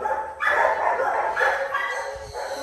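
Dogs at a home with many breeds, including Jack Russell, giant schnauzer, German Shepherd and Rottweiler, bark in quick bursts, close and loud.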